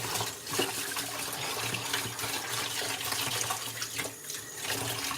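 Water runs steadily from a tap as rice is washed in a pot, a continuous splashing rush with faint clinks, lasting throughout at moderate loudness with no talking.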